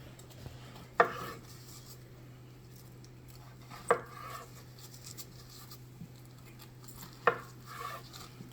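Smoked burnt ends are diced with a knife on a board: three sharp, fairly close chops spaced a few seconds apart over a quiet background with a low steady hum.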